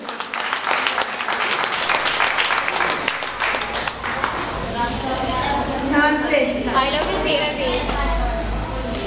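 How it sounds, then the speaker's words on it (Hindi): An audience at a gathering in Adhartal, Jabalpur claps, with a dense patter of hands for the first few seconds before fading under a speaking voice. "तो एक बार हमारे इनके लिए जोरदार ताली बजाएंगे जोर से।"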